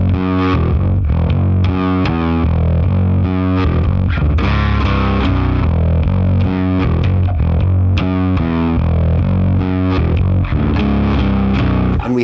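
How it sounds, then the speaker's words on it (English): A bass guitar through a drive effect on a Line 6 HX plays a chunky, driving riff, loud and continuous with gritty overdrive on every note. "I'm putting on a drive in the HX and I'm playing"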